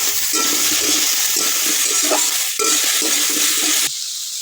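Fried pointed gourd goes into a hot pan for a pona fish curry and is stirred, a loud, crackling sizzle with scraping that surges and then drops off sharply near the end.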